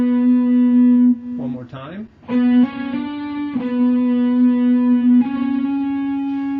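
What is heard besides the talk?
guitar playing Pachelbel's Canon phrase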